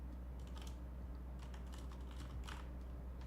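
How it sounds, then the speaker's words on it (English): Soft, quick clicking of keys on a computer keyboard, irregular bursts of typing over a low steady hum. "I can hear them typing."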